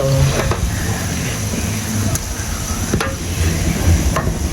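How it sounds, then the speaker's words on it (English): Steady sizzling of tomato-based jollof rice sauce frying in oil, with scraping and clinking of a spoon stirring the pan, close up and continuous. "I will just keep stirring until everything dissolves into the oil."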